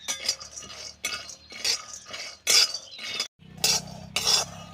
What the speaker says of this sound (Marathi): शेंगदाणे पण आपल्याला चांगले खरपूस मंद आचेवरती भाजून घ्यायचे आहेत.